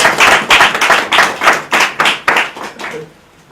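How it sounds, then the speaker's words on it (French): Audience at a refugee association meeting in France claps in a series of strong, even bursts, some ten rhythmic waves of hand clapping close by, fading out at the end. "On va applaudir encore, c'est magnifique."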